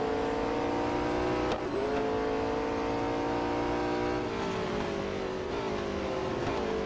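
A race car engine in the Real Racing 3 video game roars loud and steady, climbing in pitch as it accelerates, with a brief dip at a gear change and continuous high revving throughout, with no talk.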